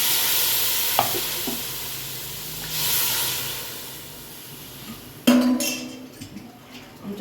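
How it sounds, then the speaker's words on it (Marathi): Water poured into a pan of sautéed chillies, giving a steady hissing sizzle that rises and fades, then a sharp louder burst of spitting and bubbling near the end, with no talk. "आपली मिरची परतलेली आहे आता मी याच्यात पाणी टाकणार आहे"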